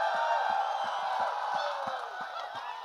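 A large crowd at an outdoor film promotion event in Ayodhya cheers and whoops loudly for Prabhas, a dense continuous roar with shrill whistling tones and a steady pulsing beat underneath.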